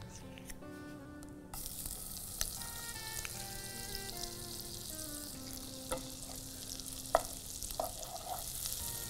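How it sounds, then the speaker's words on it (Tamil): Butter melting and sizzling in a pan on a stove, a steady bright frying hiss with small crackles and a few tapping clicks, close and continuous, with no speech. "வெண்ணை லேசாக உருகும் போதே"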